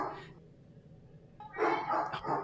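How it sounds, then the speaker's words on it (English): Dog barking in short bursts, one brief sound at the start, then louder repeated barks near the end, close to the microphone and mixed with some background noise. "The dog got mad at Max Muncy."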